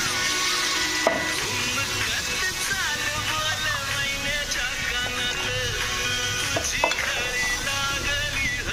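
Water poured into a pan of roasted onion chutney sets off a loud, steady hiss and bubbling that runs throughout, with a few sharp clatters of utensil against the pan.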